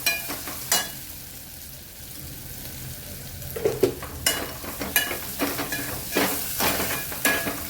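Masala for veg pulao sizzles steadily in a hot pan while a spoon stirs and scrapes against it in repeated strokes, close and fairly loud, with no talking.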